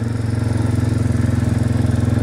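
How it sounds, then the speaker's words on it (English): A farm motorbike with a centrifugal clutch runs close and loud, its engine giving a steady, pulsing low drone while riding. "this is riding a centrifugal clutch bike"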